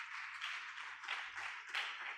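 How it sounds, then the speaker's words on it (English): Audience applause at a medical symposium: a steady wash of many hands clapping, fairly distant and soft, sustained for a couple of seconds. "Please give her a very warm round of applause."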